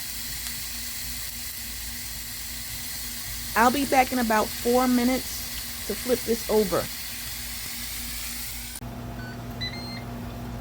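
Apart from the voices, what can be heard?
steak sizzling on a grill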